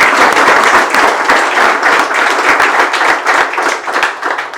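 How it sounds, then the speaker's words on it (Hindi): A group claps loudly for selected students in a classroom or session hall, a dense continuous burst of applause lasting throughout, close and without talk. "तालियां बजा देते हैं भाई"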